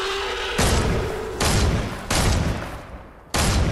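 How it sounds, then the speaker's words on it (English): Four heavy gunshot blasts in a video game, each a sudden loud broadband burst that rings and decays, spaced unevenly over a few seconds with a steady game backdrop underneath. "how is he dodging all of my shots?"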